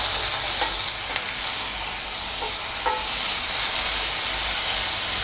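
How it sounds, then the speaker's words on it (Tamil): Capsicum sautéing with chicken in a pan for restaurant-style chilli chicken, a steady close sizzle and hiss over low heat with a few soft stirring scrapes and clicks, no voices. "இப்போது குடமிளகாய் இதையும் நம்ம ஆட் பண்ணிவிட்டு வதக்கிக்கலாம்."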